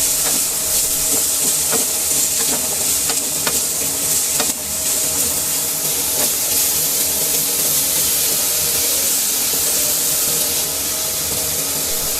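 Cabbage and carrot with salt being stirred in a pan, a steady sizzling hiss with a series of soft scraping stirs through the first half, then continuous frying alone.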